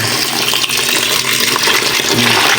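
Water poured from a container into a tub of live fish, a close, loud splashing and gushing that runs steadily throughout with bubbling churn and no talk.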